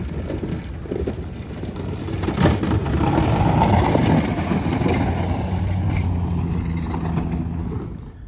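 Pickup truck engine idling and revving after a broken head gasket bolt repair, a steady low rumble with wind noise that swells after a couple of seconds and holds.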